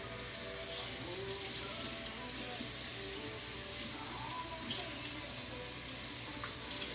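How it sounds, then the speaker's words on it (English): Tap water runs in a steady hissing stream as a tie-dyed shirt is rinsed underneath, close and continuous with faint splashing variations. "So just kind of pass the shirt under the water to rinse it a couple of times."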